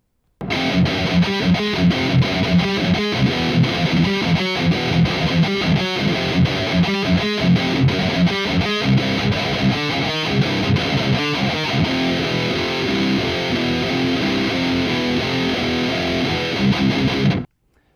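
A heavily overdriven electric guitar plays continuously through an Orange Dual Dark 100 amp on its overdrive channel, with chugging rhythmic chords and brief gaps, loud and close, no voices.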